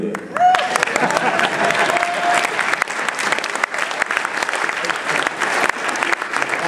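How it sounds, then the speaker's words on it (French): Audience at a political rally applauding in a steady, dense wash of clapping that carries on for several seconds, with a brief voice near the start. "il faut applaudir pour que je puisse le faire."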